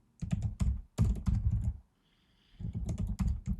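Quick bursts of typing on a computer keyboard while writing PyTorch code, two clusters of rapid key clacks separated by a brief pause, close and clear with no talking.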